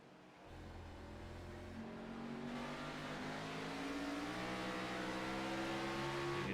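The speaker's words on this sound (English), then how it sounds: "You can hear the tires start to spin just a little bit" Stock race car engine revving hard under throttle in a racing video game at North Wilkesboro, with a rising engine note and faint tire slip, continuous and close for several seconds.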